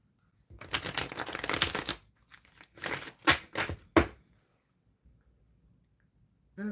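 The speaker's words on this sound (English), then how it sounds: "All right, I am shuffling." Tarot cards are shuffled in a few quick riffling bursts, close and crisp, separated by short pauses of near silence.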